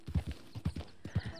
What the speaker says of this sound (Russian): Привяжите лошадь. Давай привяжем.